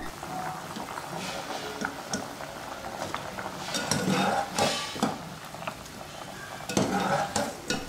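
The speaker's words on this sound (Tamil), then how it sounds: "உருளைக்கிழங்கு கொதிக்கிற தண்ணியில் போட்டு கரெக்டாக 3 நிமிஷம் மட்டும் நீங்கள் குக் பண்ணுங்கள்" Potato pieces for French fries cooking in a pot of boiling water, a steady bubbling and sizzling bed with occasional stirring clinks and scrapes, close and fairly loud, no talking.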